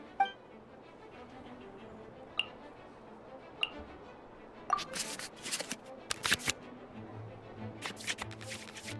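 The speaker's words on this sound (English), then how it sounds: "we can select any number of cards in our hand to shuffle back into the draw pile" Playing cards shuffling in the Invokation TCG video game: a quiet bed with a few isolated soft ticks early on, then brisk clustered riffling bursts in the second half.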